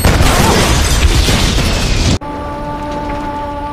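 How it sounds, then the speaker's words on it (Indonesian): A bomb blast in a film rings out as a loud, sustained roar of explosion and debris, then cuts abruptly to a quieter scene with a steady tonal hum. "bom pun meledak"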